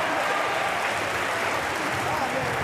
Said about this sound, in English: a roar of approval from the crowd